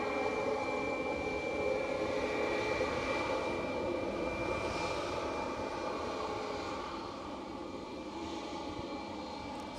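EasyJet airliner in from Birmingham at Edinburgh Airport, a steady broad engine roar with a whining tone, loud and continuous before easing slightly toward the end, with no voices.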